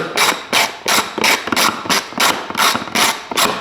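Ratcheting and mechanical clicking while removing the airbox and air filter cover from a Husqvarna 701 Enduro motorcycle, close and loud, in about nine regular bursts with brief gaps between them.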